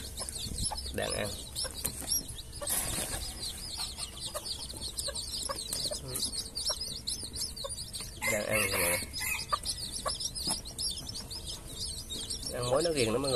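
Hybrid jungle-fowl chickens cluck and chatter while eating termites over a busy outdoor background, with scattered squawks and a brief burst of louder fowl calls partway through.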